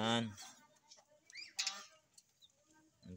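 Chickens and ducks on a farm give scattered clucks and short honking calls, close and fairly quiet, with a human voice briefly audible at the start and end.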